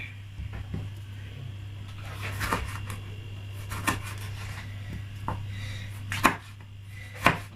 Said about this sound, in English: And next, I'm going to be chopping the tomato.